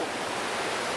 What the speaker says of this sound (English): Catch the waves, catch the waves.